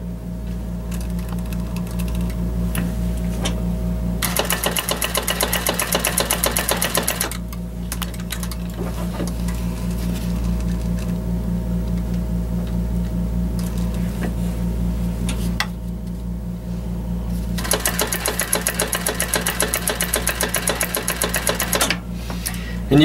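A Consew 206RB industrial sewing machine runs at a 5 millimeter stitch length, two loud, fast, rhythmic stitching bursts over a constant motor hum, close and with no talking.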